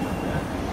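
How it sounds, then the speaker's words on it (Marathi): A train arrives at a railway station during Ganpati festival travel, a continuous loud low rumble of rolling wagons heard close up with no talk. "काही ट्रेन आलेली आहे आणि आता आम्ही या ट्रेनमध्ये जाणार रोहासाठी"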